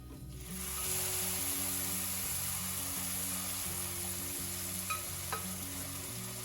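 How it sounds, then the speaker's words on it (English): Sautéed mushrooms and butter sizzle as they are mixed into rice in a pan, a steady close frying hiss with a low tonal hum underneath and a couple of brief utensil taps near the end. "we're gonna go ahead and add the sauteed mushrooms and butter into our rice"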